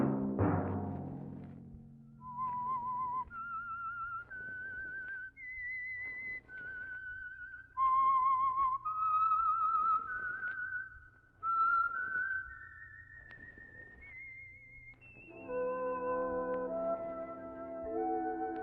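A lone whistler carries the theme tune of the radio drama series, a slow, eerie melody of held and gliding notes rising and falling, clear and fairly close over a faint hum.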